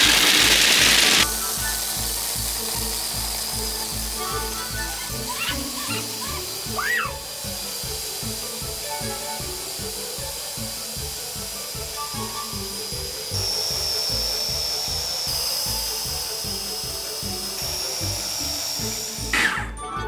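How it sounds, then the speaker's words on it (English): A nut butter grinder churns nuts with cinnamon, giving a steady, close mechanical motor whir with a rough grinding texture that runs without pause for about twenty seconds, plus a few faint knocks; no talking. "put on your nut butter grinder lid and get to"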